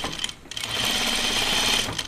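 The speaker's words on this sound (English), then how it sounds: "I'm going to sew the center back seam, top stitch it real quick like" A sewing machine runs a quick burst of stitching along a dress's center back seam, a close, steady mechanical whir that starts after a brief pause and runs to the end.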